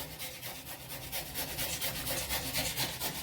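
Beetroot is grated by hand in a home kitchen with a rapid, steady run of rasping scrapes. It sounds close and stands alone, with no talking.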